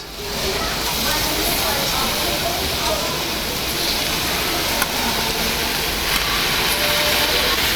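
Lamb kidneys sizzle over a charcoal grill as they are turned to cook the other side, a steady close hiss and crackle running loud and unbroken throughout.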